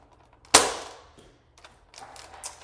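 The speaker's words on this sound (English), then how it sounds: "Now we're going to slam fire this." A Nerf Fortnite blaster slam-fires a foam dart with one sharp, loud snap that decays quickly, followed by softer mechanical clatter and rustling from handling the blaster.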